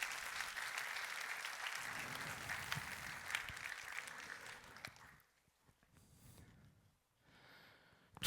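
Church congregation applauding, a broad wash of clapping for about five seconds that thins out and fades, quiet and somewhat distant.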